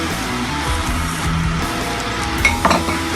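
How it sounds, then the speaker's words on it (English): Rice tipped into a pan of seasoned filling for stuffed peppers and tomatoes, a close soft sizzle and stirring rustle, with a few sharp clinks of a utensil against the pan near the end. "Now we add in our rice."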